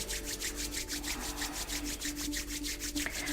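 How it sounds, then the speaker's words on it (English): Palms rub together briskly during a vinyasa yoga practice, a rhythmic, close, swishing friction sound repeating steadily with no speech. "rub your palms together and create a nice warm friction between them"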